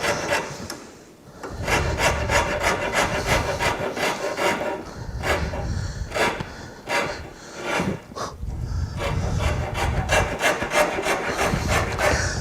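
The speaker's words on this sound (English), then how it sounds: "We'd have to finish that with a rasp." A rasp works a carved wooden piece in a shop, making rhythmic, close, scratchy rubbing strokes in repeated bursts with brief pauses between.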